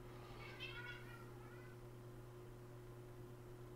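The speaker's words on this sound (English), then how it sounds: "now my cats are fighting" Two house cats fighting: one drawn-out, wavering yowl rises and falls early on, then fades, leaving a steady low electrical hum with faint, distant noise.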